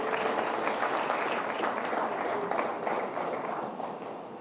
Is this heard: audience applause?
yes